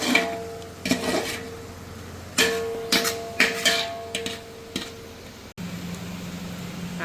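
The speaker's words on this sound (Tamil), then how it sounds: "இந்த மசாலாலாம் நல்லா பச்சை வாசனை போகிற வரைக்கும் நம்ம வதக்கிக்கணும்" Masala for chicken biryani sautéing on low heat in a pan: intermittent soft sizzles and stirring scrapes come in short bursts, with a sharp click partway through and steady kitchen hum.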